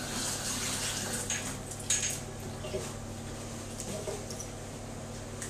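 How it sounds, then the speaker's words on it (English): Tap water running steadily in a kitchen sink while hands are washed, a constant hiss with faint splashes and a hum underneath, no talk. "Gotta wash my hands."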